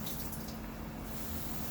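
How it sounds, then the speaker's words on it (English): Water pours steadily from a tap into a bowl of frozen shrimp that have thawed and refrozen together, a close, continuous rushing flow with no talk. "pour some more water in"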